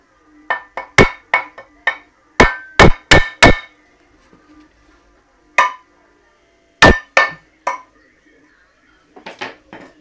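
Sharp metallic hammer blows strike an engine block in quick clusters, ringing clearly against silence, about a dozen hits with pauses between groups.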